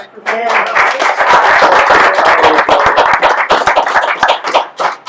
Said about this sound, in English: All right, how about a round of applause?